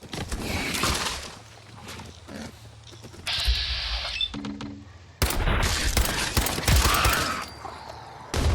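Gunfire in Fallout 4, a burst of shots with mechanical clanks and thuds, loud and close, followed by a denser, louder volley of shots in the second half.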